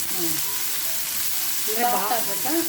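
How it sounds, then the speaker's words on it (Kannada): Long strips of capsicum and cucumber fry lightly in a pan over a medium flame, giving a continuous, even, close sizzle that stays at a steady level throughout. "ಮೀಡಿಯಮ್ ಫ್ಲೇಮಲ್ಲಿ ಜಸ್ಟ್ ಇದು ಲೈಟಾಗಿ ಈ ಥರ ಫ್ರೈ ಮಾಡ್ಕೊಂಡಿರೋದು"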